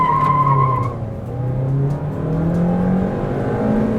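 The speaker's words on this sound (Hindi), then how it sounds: "अब शिफ्ट में भी यहाँ पर ना गाड़ी व्हील स्पिन दे रही है।" A Honda Amaze i-VTEC engine revs hard near 7000 rpm with wheel spin, a rising whine with a tire squeal at the start, then the engine note climbing again after a shift, loud and close from inside the car.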